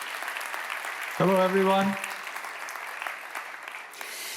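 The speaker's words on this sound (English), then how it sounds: "Give him a round of applause, everybody." Audience applause welcoming the Vodafone Business CEO at a business event, a bright burst of clapping that swells for under a second and then carries on more softly while someone speaks over it.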